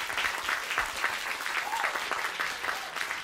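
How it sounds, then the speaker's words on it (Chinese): Steady applause from an audience welcoming someone speaker onto the stage, a dense continuous patter of many hands clapping at moderate volume for a few seconds, with no speech over it. "掌声欢迎"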